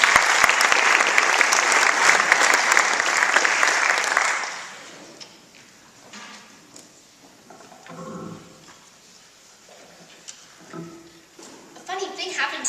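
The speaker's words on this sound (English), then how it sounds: "Let's give a round of applause for George and Gracie." A radio studio audience bursts into loud, sustained applause for a comedy double act, which fades after about four seconds into quieter shuffling and occasional voices.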